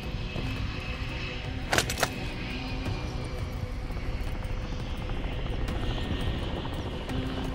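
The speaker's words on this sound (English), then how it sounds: "Konni armored helo is overhead" An armored helicopter overhead in the video game Modern Warfare III, a steady rotor and engine rumble throughout with a short sharp burst partway through, with no talk.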